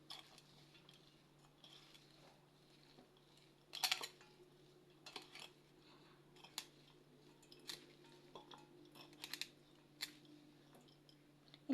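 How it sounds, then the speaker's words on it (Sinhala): Curry leaf sambol being stirred and mixed with salt in a bowl, giving soft scattered scrapes and a few clinks of a spoon, faint and irregular against a steady low hum. "හොඳින් කවලම් කරගන්න ඕනේ"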